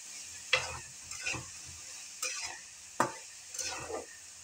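Soybean chunks frying in salted spices are stirred in a pan, five scraping strokes spaced about a second apart over a soft steady sizzle, close and fairly quiet.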